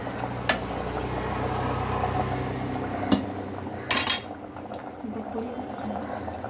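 Mixed vegetable sambar bubbles in a pot, a low steady simmering hiss under faint kitchen clinks, with a couple of sharper metallic knocks and a brief clatter partway through.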